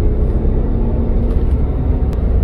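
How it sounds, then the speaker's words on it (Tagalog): A bus pulls up at a bus stop, its engine giving a loud, low, steady rumble close by with no talking over it. "Ito yung bus."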